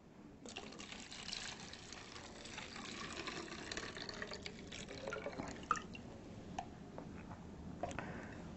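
Water trickles into a bottle as it is filled about three-quarters full for a kids' biology experiment, a quiet, steady pour with small drips and clicks throughout.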